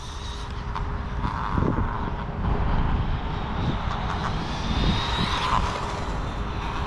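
A Losi Promoto SM radio-controlled motorcycle runs nearby with a steady, buzzing electric motor whine that swells and eases as it takes a tight turn, the sound continuous throughout.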